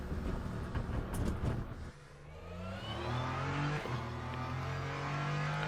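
A Ferrari 499P hypercar in a racing video game brakes hard, its engine note dropping in a smooth descending whine before holding at a steady lower hum, with no talking.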